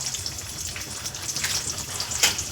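An egg sizzles in a hot frying pan, a steady close crackle and spatter with small pops and no talking.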